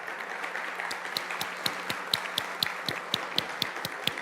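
Sparse audience applause welcoming an official at a Mexican postal stamp anniversary ceremony, scattered distinct claps in a steady rhythm, fairly faint against room ambience.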